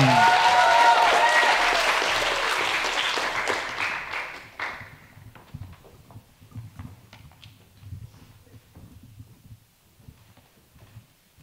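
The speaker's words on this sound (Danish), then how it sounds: "klap for næste slammer, mine damer og herrer, Rebecca Pedersen." Audience applause at a poetry slam event, loud and dense at first, then fading into scattered claps and rustling.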